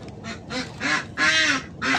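Ducks quack repeatedly while being fed leftover canteen food, giving several loud, close, nasal calls in quick bursts with brief gaps between them.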